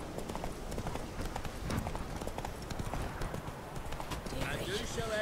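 Roach the horse gallops in a video game, steady hoof clip-clops drumming at close range with a brief whinny, while a voice talks over the hoofbeats throughout.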